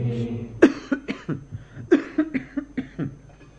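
A lecturer coughs in a rapid fit of about eight sharp, close bursts spread over a few seconds, loud and dry with short gaps between them, and no speech alongside.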